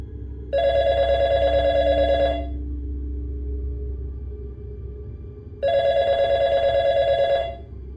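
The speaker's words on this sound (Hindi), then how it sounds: "मेरा फ़ोन बज उठा" A mobile phone rings in two separate bursts of bright, bell-like electronic tones, each lasting a couple of seconds, over a steady low background rumble.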